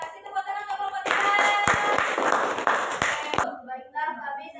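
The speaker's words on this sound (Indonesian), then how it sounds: "Kasih tepuk tangan untuk kelompok 3." An audience claps for a classroom group presentation, a dense burst of applause starting about a second in and lasting roughly two and a half seconds, then giving way to talk; voices are heard before and after it.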